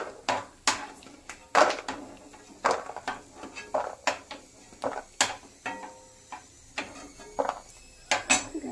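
Almonds, just fried, are tipped out onto a large plate, giving a series of sharp clatters and metallic scrapes of a utensil against the plate, irregular and close, with no talk.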